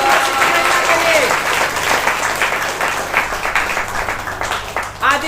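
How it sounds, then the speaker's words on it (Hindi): Church congregation claps loudly in praise during a Hindi-language worship service, a dense, continuous wall of hand claps filling the space with voices mixed in throughout. "ताली बजाइए तेजी से प्रभु यीशु मसीह की महिमा के लिए।"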